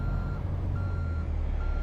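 A truck in American Truck Simulator emits a steady, evenly spaced electronic reversing beep, repeating about three times over a deep, continuous engine rumble.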